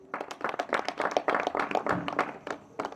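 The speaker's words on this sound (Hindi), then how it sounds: "एक बार अपने लिए तालियां बजा लीजिए।" An audience claps together at a spiritual gathering, a burst of fairly close, dense handclaps that rise and fall over a few seconds.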